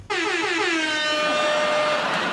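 An air horn sound effect fired from a beat machine on a comedy quiz show, a single loud sustained blast lasting about two seconds, alone without talk.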